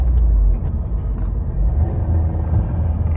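A 2022 Subaru WRX with an ETS intake pulls hard in third gear, its engine a steady, close, low droning rumble that holds for a few seconds with no voices over it.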